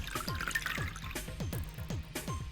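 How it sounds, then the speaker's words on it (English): Ethanol is poured down a drain in the video game Zero Escape, producing repeated dripping and gurgling liquid splashes in a quick uneven rhythm, close and clear, with no talking. "I'll just pour the froggy ethanol into the drain."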